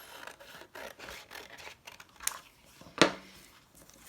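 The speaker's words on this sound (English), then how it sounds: "I'm going to cut it in half." Scissors cut a sheet of paper in half for a tunnel book, giving close, crisp scraping snips in a short run, ending with one sharper, louder cut.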